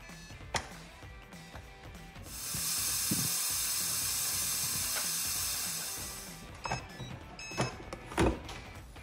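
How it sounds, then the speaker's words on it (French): A Cookeo multicooker hisses steadily as it starts high-pressure cooking for chicken curry, a loud broadband steam rush lasting about four seconds between scattered clicks and light kitchen knocks. "C'est parti pour une cuisson sous haute pression."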